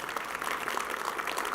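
Audience applause at a Williamson County Outlook session, steady broadband clapping from a room of people, moderately loud and continuous with no voices over it.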